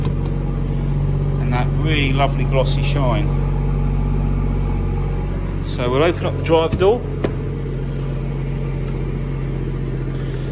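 A BMW 440i M Sport with a six-cylinder engine idles as a steady low hum beneath someone talking close by, continuing quietly through pauses in his speech.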